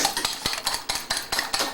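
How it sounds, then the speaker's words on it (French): An egg is whisked briskly in a bowl until foamy, a fast, even run of close clinks and taps as the utensil strikes the sides, with no talking. "Il faut bien le battre, qu'il soit mousse."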